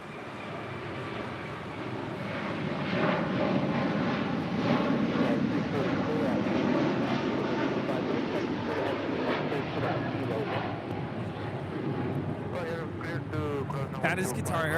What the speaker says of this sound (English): That is Qatar Airways 742 departing to Doha on the A350 1000.